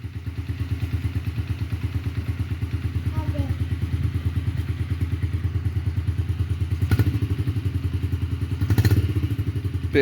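A Yamaha TTR-50 dirt bike's small single-cylinder engine idles steadily with a rapid, even firing beat, swelling briefly twice as it is revved during warm-up; close and continuous, with no talk over it.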